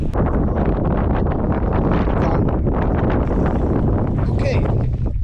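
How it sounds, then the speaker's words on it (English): Strong wind buffets the microphone in a continuous, loud roar during high-elevation trout fishing, dense and unbroken throughout. "It's still incredibly windy"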